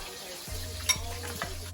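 A utensil stirs sour cream and milk together in a bowl for shrimp tacos, giving a few short close scrapes and soft wet swishes over a steady low background.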